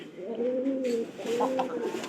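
Pigeons kept in pairs on a small farm coo in two low, rolling phrases, close and clear with no talk over them.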